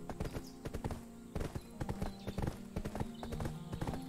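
Horse hooves clip-clop steadily in Black Desert Online as a tier 8 horse is ridden, a brisk rhythmic series of close hoofbeats over ambient game sound.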